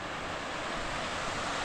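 Water rushing steadily through a deep forest, a dense continuous wash that stays close and loud, with wind buffeting the microphone throughout.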